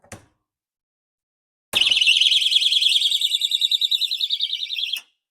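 A plug-in outlet noise-maker alarm used for tracing circuit breakers sounds loud and near with a shrill, warbling high tone for about three seconds, then cuts off abruptly when power drops, after a brief click at the start.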